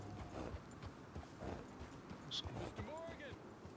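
A horse in the video game Red Dead Redemption 2 walks with soft, irregular hoof clip-clops and occasional snorts, faint beneath a person talking over it.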